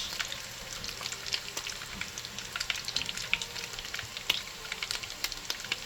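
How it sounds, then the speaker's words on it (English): Fish cakes crackle and sizzle in hot oil, a dense busy spatter of pops over a constant hiss, close up with no voices. "in your frying pan for the fish cakes to breathe while they're frying"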